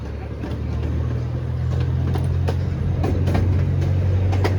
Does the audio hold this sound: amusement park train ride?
yes